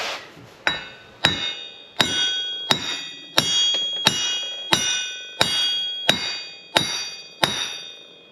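A big piece of round bar stock is hammered against a stuck part in a Polaris Ranger 800 transmission held in a cheap vise, giving about eleven sharp metallic clangs in an even rhythm, each ringing out briefly, close and alone.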